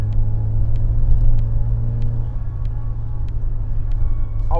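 A 31-year-old Porsche 944's engine while driving, a steady low rumble heard from inside the car with little change in revs, continuous and fairly loud.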